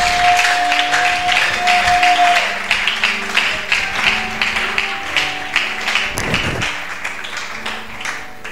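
Congregation in a church breaking into applause, a steady wash of clapping that builds briefly to a louder burst near the end before easing off, with music tones underneath.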